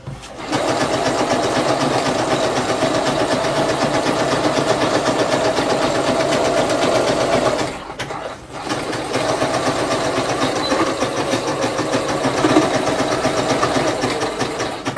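A sewing machine that trims fabric as it stitches runs in a loud, steady, close whir for several seconds, pauses briefly, then resumes its even mechanical drone while working on a hair volumiser piece.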